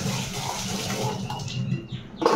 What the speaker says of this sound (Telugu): ఇక్కడ అంట్లు కడుక్కుంటామండి మేము